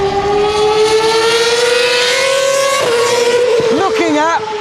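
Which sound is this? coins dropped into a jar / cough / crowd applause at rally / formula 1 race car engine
formula 1 race car engine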